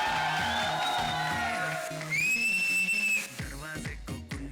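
A crowd of girls at a promotional stage event whistles loudly with long rising whistle tones, then breaks into whoops and cheering, all over steady pounding background music.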